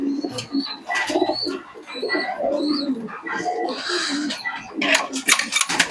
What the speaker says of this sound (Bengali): সিলেটি কবুতর আমি ছেড়ে দিলাম